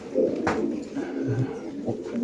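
Racing pigeons in a numbered club cage coo in low, rolling bursts, several overlapping close by, with a brief sharper flutter or rustle near the start.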